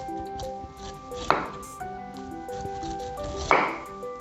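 A knife peels firm pineapple with two sharp scraping cuts standing out, over a steady background of tonal hum and faint clinks.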